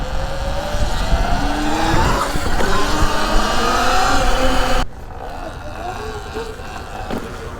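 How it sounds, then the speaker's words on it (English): A Sur-Ron 72v 12,000w electric bike pulls hard at full throttle, its loud motor whine rising in pitch, then cutting to a quieter hum about two-thirds through. "Wow, no, I can't even get the wide open throttle, honestly. Like, dude, this thing rips."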